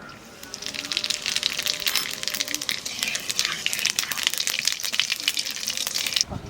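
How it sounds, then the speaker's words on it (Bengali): Cumin seeds hit hot oil in a home kitchen where a gourd and pumpkin dish with fresh koi fish and prawns is being cooked, setting off a bright, steady sizzle and crackle close by that holds for several seconds. "তেলের উপর দিয়ে দেবো জিরে"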